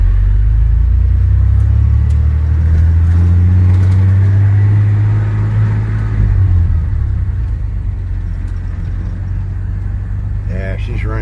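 A 1993 Ford F250 pickup, just fitted with a new engine computer, idles nearby with a loud, deep, steady rumble that eases slightly partway through, while a voice talks over it.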